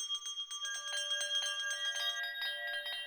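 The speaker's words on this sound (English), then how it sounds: "Tiny bell ring." Small bell rung repeatedly as a drum kit sample, bright ringing strikes in quick succession with sustained overlapping tones, close and clear with no other sounds.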